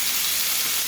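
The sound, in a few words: steak meat frying in a pan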